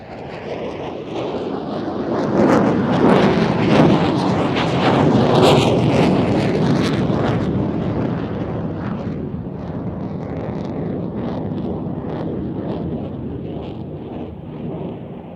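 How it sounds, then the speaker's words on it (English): An F-16 fighter jet pulling a hard 360-degree turn at an air show, a loud roaring engine that swells to a peak and then recedes, with wind buffeting the microphone. "the F-16 enters another 360, really pulling hard to complete this turn"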